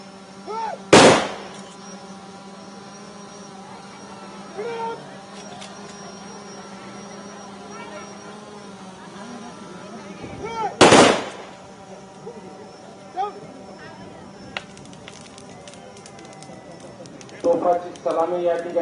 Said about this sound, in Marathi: तोफाची सलामी या ठिकाणी आपल्या वीर जवानाला या ठिकाणी दिलेली आहे